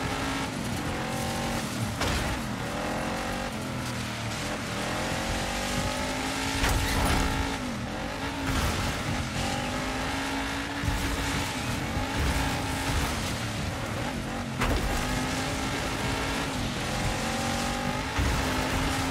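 Race car in the off-road racing game Dirt 5, engine loud and close, revving and shifting through gears with rising and falling pitch, tire squeal and skids over a steady roar.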